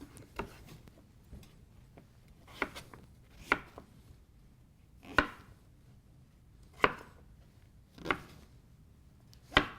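A knife chopping winter squash on a cutting board, sharp isolated cuts spaced a second or two apart at a slow, even pace, fairly quiet and close.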